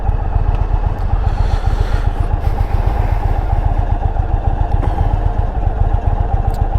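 A 2021 Indian Roadmaster motorcycle rides along with a constant loud engine drone and a fast mechanical rattle running through it, close and unbroken.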